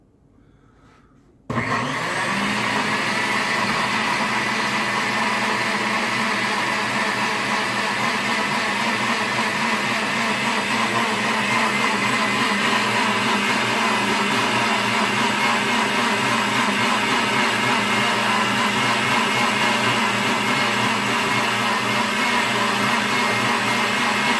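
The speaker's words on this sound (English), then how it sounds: "We have a liquefy setting on the blender. Let's let her rip." A blender on its liquefy setting, blending cold cucumber soup, kicks on abruptly after a brief quiet moment and runs at a loud, steady whirring roar for over twenty seconds.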